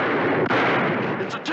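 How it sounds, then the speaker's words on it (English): Dense, roaring gunfire in a western film fills the clip without pause, heavy and continuous like a distant barrage, with a faint voice mixed in. "They must have heard a gunfire."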